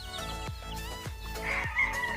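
Chickens, a mother hen with her chicks, cluck and call in a short repeated pattern close by, several sharp calls in steady succession.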